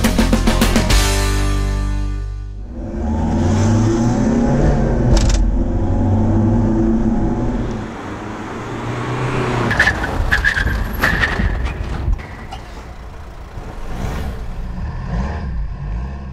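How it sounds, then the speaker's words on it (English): Two vehicles doing emergency stops in a test of defective shock absorbers: engines accelerating loudly, then tires skidding and squealing as they brake hard, with a second run following. "at the beginning of this issue, we showed both vehicles doing an emergency stop."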